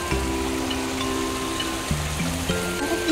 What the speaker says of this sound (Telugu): ఇక్కడ మధ్య మధ్యలో వాటర్ స్ట్రీమ్స్ కూడా చాలా బాగున్నాయండి